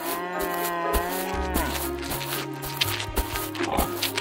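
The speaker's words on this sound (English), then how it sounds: "Hey, look, it's a cow." A cow lets out a long, loud, drawn-out moo that bends in pitch partway through, heard close and alone with faint shuffling beneath.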